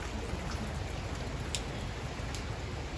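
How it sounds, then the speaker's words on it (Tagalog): Rain falls steadily during a bike ride along a roadside, a soft continuous patter with a few sharper drops, fairly quiet and without any talking. "Maulan dito, hirap mag-ride."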